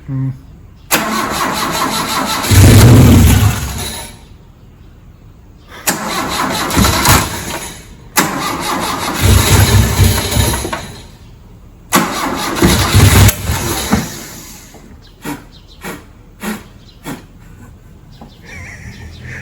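A 1960s Lancia Flavia engine with an old carburetor cranks and catches three times in loud, separated bursts, each start followed by brief rough running that dies away, then a few short sputtering catches at the end, with voices talking in between.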